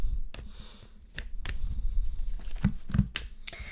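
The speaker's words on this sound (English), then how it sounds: "Right, I'm shuffling the cards." Tarot cards are shuffled by hand up close, giving soft riffling bursts and sharp slapping clicks in an uneven rhythm, with no voices over them.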